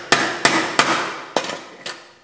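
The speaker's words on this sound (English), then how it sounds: "what I'll use is some transfer punches here now, so I can drill into our brass" Hammer striking transfer punches into brass on a custom knife build, five sharp metallic taps spaced unevenly, each ringing briefly and decaying, close and loud with no talk.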